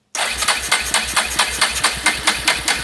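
A Yamaha Kodiak ATV engine with a freshly rebuilt carburetor and its air box removed turns over and fires, chugging in a quick, uneven rhythmic pulse up close, loud and alone.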